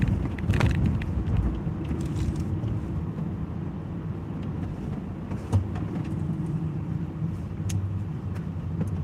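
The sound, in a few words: cars passing on the street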